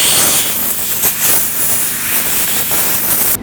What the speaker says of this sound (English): You can use some compressed air for this.